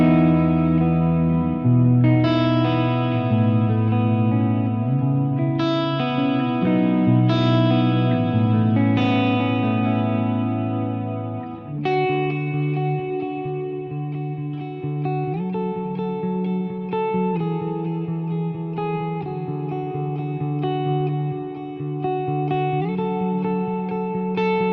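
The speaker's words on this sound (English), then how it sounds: "I have my ambient Plex delay, kind of a big, washy ambient reverb sound." Electric guitar notes through a Fractal Audio FM3's ambient Plex delay ring out in a big, washy reverb, each chord blooming and trailing into long, smeared echoes.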